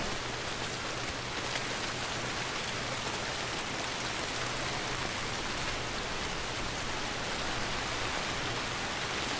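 Steady rain falling in the video game Death Stranding: Director's Cut, a constant even hiss of rain on surfaces, quiet and unbroken, with no voices.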